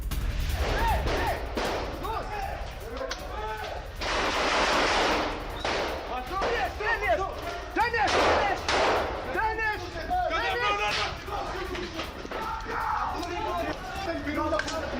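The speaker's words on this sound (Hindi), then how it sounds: "जहां हमास लड़ाकों पर ताबड़तोड़ फायरिंग भी हुई है" Gunfire from news footage of an Israeli military operation in Rafah: repeated bursts of shots and crashes in a dense, noisy mix with voices talking throughout.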